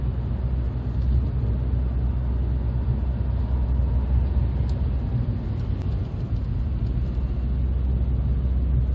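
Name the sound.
2000 Mercedes-Benz CLK 230 Kompressor driving at 50 mph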